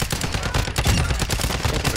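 Rapid, loud gunfire from the video game Call of Duty DMZ crackles in dense, overlapping bursts throughout, with no talk.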